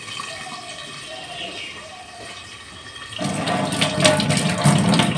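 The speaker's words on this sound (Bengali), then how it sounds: "দাঁড়াও হাতটা ধুয়ে নিই" A kitchen tap opens partway through and runs in a loud, steady rush as hands are washed beneath it, following a quieter stretch of room noise.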